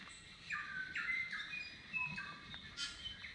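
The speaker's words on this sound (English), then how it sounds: "Can you hear that bird song?" Several birds chirp and whistle in short bright phrases in Catlins forest, New Zealand, fairly close, over quiet background with no voices.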